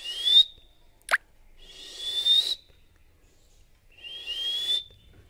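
A whistle blown three times in long, loud rising blasts, each lasting over half a second, with a short sharp pop between the first two.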